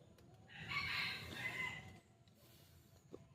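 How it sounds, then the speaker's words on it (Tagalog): A single rooster crow rises and holds for about a second and a half, somewhat distant and faint against quiet outdoor background. "Tapos ngayon lang tumilaok ulit."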